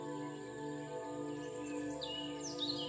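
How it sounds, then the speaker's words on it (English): Birds chatter high in forest treetops, a few faint chirps and tweets over a steady tonal background hum. "You can hear the birds high up in the trees as they chatter to each other"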